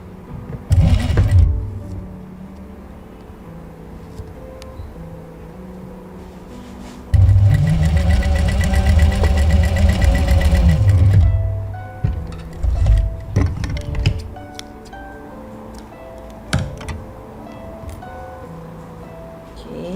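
Sewing machine stitching patchwork triangles, one loud steady run of rapid stitching lasting several seconds, set between quieter handling clicks and fabric rustling.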